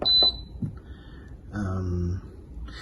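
An electric cooker beeps as its settings are selected while beef pata bulalo is prepared, with a bright tone near the start, then someone talking over it.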